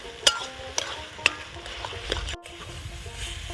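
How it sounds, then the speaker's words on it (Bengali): Taro leaves being stirred and fried in a pan for a Bengali prawn and taro leaf dish: a steady sizzle runs throughout, broken by a few sharp spatula clanks and scrapes against the pan, with no talk. "পাঁচ সাত মিনিট মতো আমি এটাকে নাড়াচাড়া করে ভেজে নেব"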